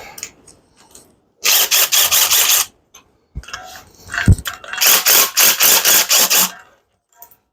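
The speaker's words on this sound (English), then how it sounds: "You can go ahead and get the impact here. Just drive them out." An impact wrench drives head bolts out of a two-cylinder John Deere engine. It fires two close, loud bursts of rapid hammering, each lasting about a second or more, separated by quiet shop pauses.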